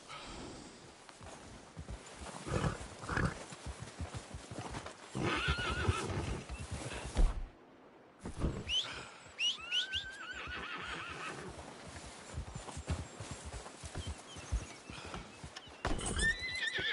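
A horse in the video game Red Dead Redemption 2 whinnies loudly several times, with clip-clopping hooves and snorts throughout, briefly cut to near silence midway before the neighing and hoofbeats resume.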